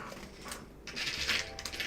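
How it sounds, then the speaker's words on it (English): Small Lego pieces chink and clatter inside a plastic bag, light bright clinking close by in short bursts with brief quiet gaps, no talk. "Can you hear the little chinking?"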